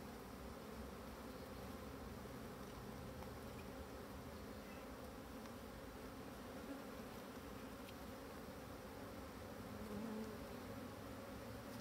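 Colony of black honeybees buzzing steadily from an opened Dadant hive during a frame inspection, a dense continuous drone that stays close and even throughout with no voices.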